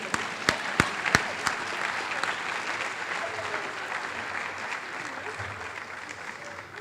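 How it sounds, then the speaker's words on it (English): Audience at a high school senior recognition ceremony applauding the graduates' parents, a few loud nearby claps at first, then a steady sustained wash of applause filling the hall. "So let's all give our parents a big round of applause here."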